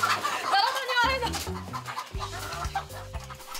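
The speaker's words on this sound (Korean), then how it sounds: "원래 닭이 너무 빨라." A chicken on a Korean farm being chased and caught gives agitated, repeated clucks up close while people talk over it.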